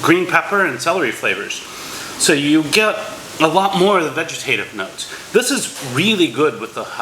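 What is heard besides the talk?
No distinct noise like a dog, phone or traffic.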